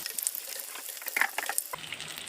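Spinach cutlet frying in hot oil, giving a steady close sizzle with scattered crackles and pops that thins out into a softer bubbling partway through.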